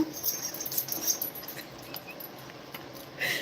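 Two dogs scuffling at home, with high whimpers, wheezy yelps and squeals over a steady hiss, fairly faint and continuous, with no talk.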